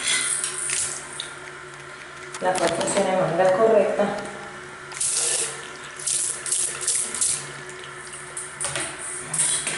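Water runs from a handheld shower in a bathroom, splashing in bursts that start and stop as the tap is opened and closed, under someone speaking.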